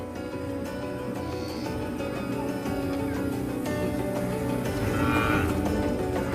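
Cattle lowing in an outdoor herd setting, with several moos overlapping over a steady, full background of animal noise; one louder call rises near the end.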